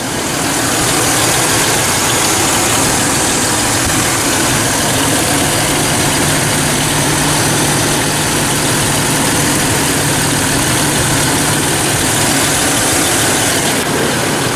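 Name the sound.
car engine idling while testing a 390 amp alternator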